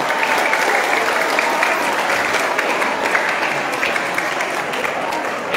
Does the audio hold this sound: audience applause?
yes